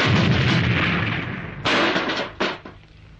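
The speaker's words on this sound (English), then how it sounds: "this is a grenade launcher." Loud, close grenade-launcher fire from the action film Fireback: a long burst of noisy blast, followed by two sharp, separate bangs with short decays.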